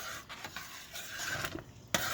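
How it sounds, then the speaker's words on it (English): A spoon scrapes and swishes steadily through thick cornmeal porridge in a pot, with a sharper clink near the end; no one speaks. "she just had to continuously stir it because you don't want it to get lumpy"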